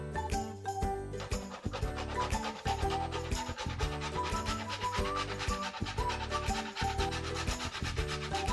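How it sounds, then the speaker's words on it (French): Nutmeg is grated by hand for a yam stew, giving a rapid, rhythmic series of close rasping scrapes, continuous and fairly quiet, with no talk. "je vais râper le muscat"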